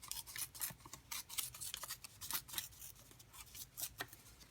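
Paper being torn by hand from the top edge during a Father's Day card-making project, heard as a series of short, crisp rips and rustles in irregular bursts, close and fairly quiet with no talking.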